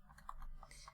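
A few quiet keystrokes on a computer keyboard, soft irregular clicks across one second with no talking.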